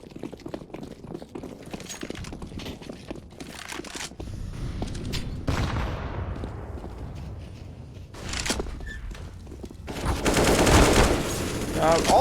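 Gunfire in a competitive esports video game match, bursts of rapid automatic fire and single shots mixed with game effects, dense and continuous, with commentators talking underneath.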